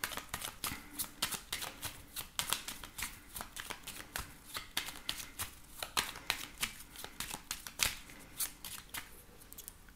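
A 32-card deck is shuffled by hand during a tarot-style reading, giving a quick, irregular series of crisp riffling snaps and flicks, close and fairly quiet, with no talking.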